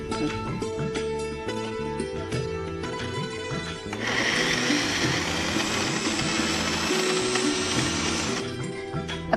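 Mixer grinder crushing ingredients for a mango orange cake: a steady loud whirring motor that starts partway in and runs for several seconds over background music, then cuts back.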